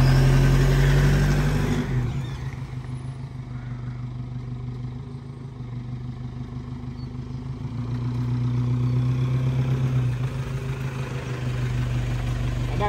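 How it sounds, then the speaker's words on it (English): A 4x4 in Eco Mode accelerates hard from a stop in drive, its engine a low steady drone inside the cabin that dips and then swells again. "Right now I'm in Eco Mode, put it in drive, I put my foot pretty hard down in the accelerator."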